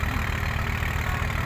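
A Massey Ferguson 240 tractor engine drives a wheat thresher, giving a steady, loud, close diesel drone with a low throbbing pulse and constant mechanical whir throughout.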